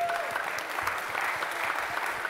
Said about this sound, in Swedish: En applåd i slutet, eller hur?